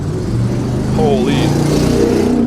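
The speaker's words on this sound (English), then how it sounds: "Always some loud engine sounds." A loud car engine rumbles past outdoors, its low growl rising and falling with a brief higher whine midway, mixed in with someone talking over it.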